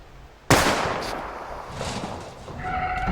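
A single sharp gunshot at a car tire in the video game Life is Strange cracks out near the start, followed by a fading mechanical rumble and some electronic tones, with no talking.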